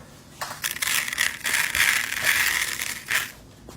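A continuous granular rattling hiss of rice being poured into a homemade snare drum box, nearby and fairly loud, with a few short bursts and pauses.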